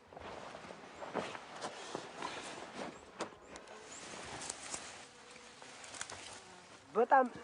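Dense, steady buzzing of many honeybees close by, a continuous swarm hum with faint rustling and a brief louder burst near the end.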